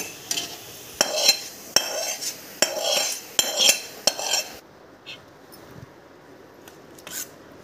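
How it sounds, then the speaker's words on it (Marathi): Fried onion stirred into batter in a pan, with a series of sharp spoon clinks and scrapes against the vessel, then quieter, sparse taps after the mixing stops. "आता कांदा यामध्ये मिक्स करून घेऊया।"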